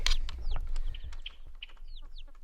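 Two yellow broody hens clucking with their baby chicks in a coop, low soft clucks mixed with high thin peeping from the chicks, close and intermittent.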